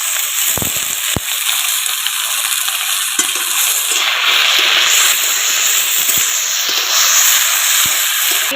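Jackfruit seeds, potatoes and vegetables sizzle loudly in hot oil in a pan, a steady close frying hiss with a few sharp crackles near the start and swelling bursts of steam later, with no talking.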